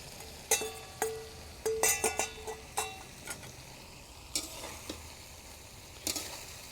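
Bhola fish fried and stirred in a tomato spice masala, a low sizzle beneath irregular clusters of clinking spatula strokes against the pan, with quieter pauses between them.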